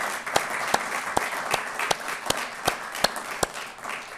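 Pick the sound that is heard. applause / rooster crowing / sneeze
applause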